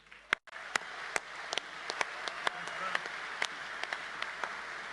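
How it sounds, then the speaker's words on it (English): Scattered, fairly faint hand claps from an audience at a football club Hall of Fame induction ring out one by one over a low hall murmur. "Please keep your applause going"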